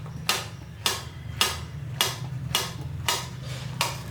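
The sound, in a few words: knife cutting green bananas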